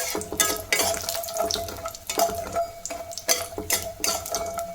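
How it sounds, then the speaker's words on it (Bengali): Lentil bori frying in a pan with bursts of sizzling and scraping stirring strokes that come and go in an irregular rhythm, close and fairly loud. "বড়িগুলো ভাজা হয়ে গেল"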